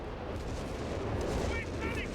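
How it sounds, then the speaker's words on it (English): A Bishop self-propelled gun in a video game fires an artillery barrage, a dense rumble of blasts over a steady low roar, with a voice talking over it. "I'm trying to counter fire his bishop right here with my first barrage."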